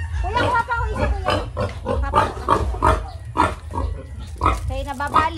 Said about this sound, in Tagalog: Kaya kulit ng mga baboy na to.